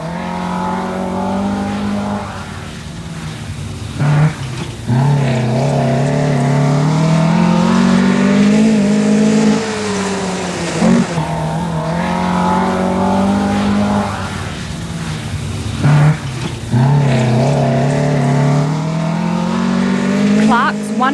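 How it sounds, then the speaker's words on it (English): Peter Clark's Datsun Stanza rally car attacks a stage of the 1983 NSW Rally Championship, its engine screaming loud and close, revs climbing and dropping repeatedly through gear changes and corners. "Canberra driver Peter Clark in his Datsun Stanza shows the style that produced the"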